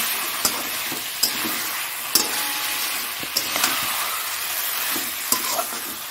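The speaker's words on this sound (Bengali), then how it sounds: "এর মধ্যে একটু সামান্য জল দিচ্ছি" Chicken reshmi kebab fries in a pan and sizzles steadily after a little water is added, a dense bright hiss with a few sharp crackles and pops spread through it, close and alone.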